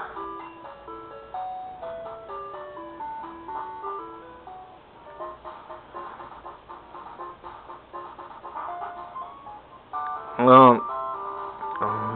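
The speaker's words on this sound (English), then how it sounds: "it's making sounds inside. It's going to hatch soon." Chiptune background music from the Game Boy game Pokemon Gold plays softly throughout, with a short, brighter warbling electronic jingle near the end as a Pokemon egg is about to hatch.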